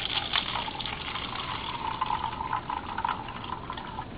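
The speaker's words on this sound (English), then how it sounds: "we want around 200 grams of water. So, I'm going to put this at 200 grams and then pour in" Water poured steadily into a container on a scale in a physics lab, a continuous close splashing gush with no talk.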